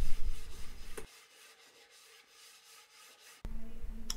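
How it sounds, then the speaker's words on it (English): Primed oak cabinets are sanded lightly by hand with 220 grit abrasive, giving soft, steady rubbing strokes, louder at the start and end with a quieter stretch between. "lightly sand after the second coat has dried thoroughly using a 220"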